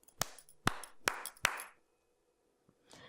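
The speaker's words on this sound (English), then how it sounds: "when I release the impulse response, like a clap, the sound that reverberates in the space only reverberates for about a second" Four sharp hand claps in a room, each followed by a short reverberant tail of under a second, then quiet with a faint noise near the end.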